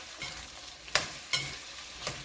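Chopped okra cooks in a hot cumin tempering, a faint low sizzle punctuated by three sharp spoon scrapes or taps against the pan, close by.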